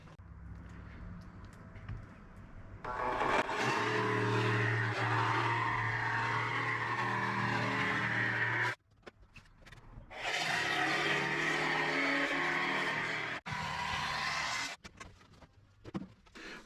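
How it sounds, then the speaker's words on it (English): A jigsaw plunge-cutting a furniture board for a wardrobe cupboard in a campervan, with two long, loud, buzzing cutting bursts separated by a short pause and brief stops. "let's get the jigsaw out and plunge in"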